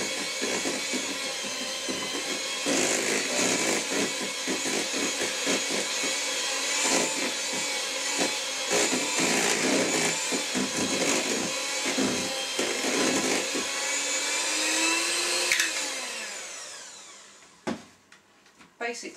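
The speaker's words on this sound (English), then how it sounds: "Just mix it until it's nice and creamy" Sponge cake batter being mixed until creamy gives a steady, loud whirring churn that runs unbroken for about fifteen seconds, then winds down and stops, with a few clatters at the end.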